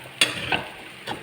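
Fried rice with pork, shrimp, cabbage and egg sizzles in a hot pan, with two or three quick stirring scrapes over a steady frying hiss.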